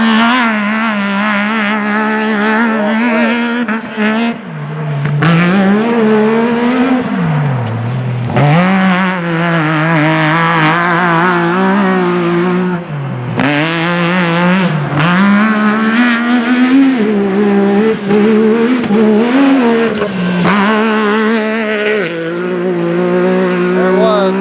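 Gladman's YXZ race machine lapping Joe's Speedway on its first test, engine loud and near throughout, revs climbing and dropping with gear changes and throttle lifts, a steady harmonic drone with brief dips around corners.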